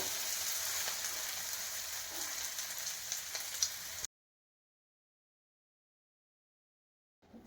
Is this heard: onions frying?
yes